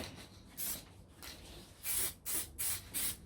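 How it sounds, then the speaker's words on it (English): Short hissing bursts of satin black aerosol spray paint are applied to domes, with one brief spurt followed by a run of close, repeated sprays separated by quiet pauses. "So give them a few light coats of satin black"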